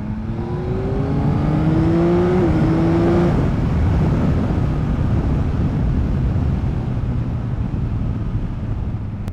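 A 2021 Yamaha MT-09 motorcycle engine revs up through rising pitch for a few seconds, then drops back to a rough, loud idle with wind buffeting the microphone.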